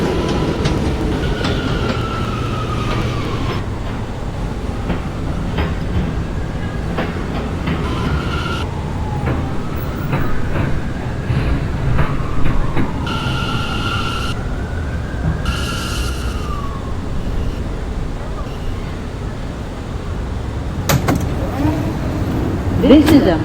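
Riding aboard an R179 M subway train on the Myrtle Avenue line in New York, a steady rumbling roar of wheels and motors fills the car, with rising and falling motor whines and intermittent chimes over a recorded announcement voice.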